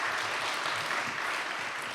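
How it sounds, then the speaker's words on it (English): An audience applauds a keynote speaker at a certificate presentation, a steady dense wash of clapping at moderate level, continuous throughout and without voices. "Please give her a round of applause."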